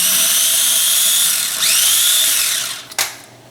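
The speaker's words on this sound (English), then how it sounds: "grind up the garlic." A food processor grinds garlic in a little olive oil with the lid on, a loud, close, high whining motor that holds steady, dips briefly, then cuts off near the end.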